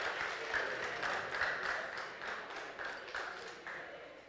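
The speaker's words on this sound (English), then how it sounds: "Please give him a round of applause on receiving his certificate and his medal." Soft, steady applause from an audience at a youth leadership program in Jeddah for someone receiving a certificate and medal, a continuous patter of many hands with gentle pulses, heard at a distance and without voices.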